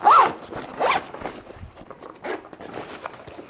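A zipper pull on a sewn bag rasps in two quick, close strokes near the start, followed by softer handling rustles and one more faint zip pass.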